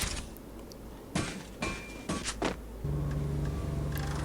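A few short creaks and rubbing scrapes, like a chair shifting under someone's weight, close by, followed by a low steady hum.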